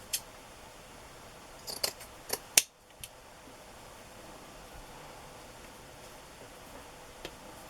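Scissors snip through a crocheted doily, producing a handful of sharp, faint clicks clustered near the start over a soft room hiss, then mostly quiet.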